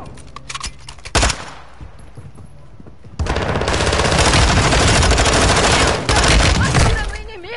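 Rapid automatic gunfire erupts in heavy sustained bursts after a few scattered shots, loud and close, with some voices in the mix, in a Call of Duty Warzone Gulag match.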